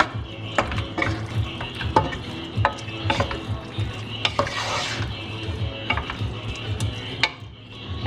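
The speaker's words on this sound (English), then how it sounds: "just give it a bit of a stir so the octopus gets all the flavours" Octopus is stirred around a hot pan of seafood, with a soft sizzle under repeated scraping and clinking strokes of a utensil against the pan, close and steady, with no talking.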